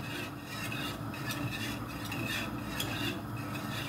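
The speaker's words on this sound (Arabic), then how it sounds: "هنضل نقلب فيها" A spoon scrapes and stirs through heated milk with macaroni in a pot, making a close, continuous rhythmic rubbing with soft swishing strokes.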